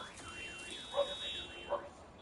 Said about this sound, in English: car alarms are going off right now outside